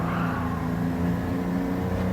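A race car engine in Gran Turismo 7 revs and drones steadily at close range, a sustained buzzing roar with no speech over it.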